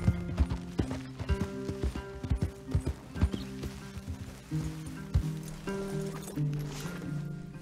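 Horses moving in Red Dead Redemption 2, with irregular close hoof clops, snorts and a whinny over low game music, plus a little background talk.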